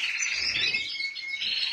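A bird in an aviary calls with bright, rapid chirps and tweets, close and fairly loud, continuing throughout with no talking.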